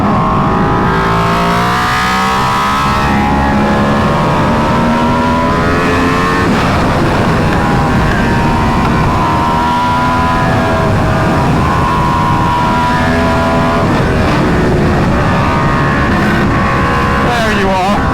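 A BMW S1000RR motorcycle roars while being ridden, its engine loud and close, rising and falling in pitch through repeated gear changes as the rider talks over it.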